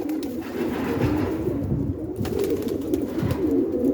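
Pigeons or doves cooing softly and continuously against a steady background hum in hot, dry weather, with no talking.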